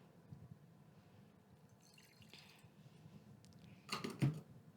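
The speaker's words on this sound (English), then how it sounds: "So I'm just going to pour that in" One cup of water poured into a bowl: a quiet stretch of faint handling, then a short, soft splash and trickle near the end.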